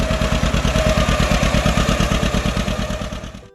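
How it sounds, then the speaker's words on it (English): A John Deere 60 two-cylinder tractor engine runs close and loud with a steady, even pop-pop pulse, then tapers off at the end. "It still had that old 2-cylinder heartbeat, that steady pop-pop sound rolling across an open field."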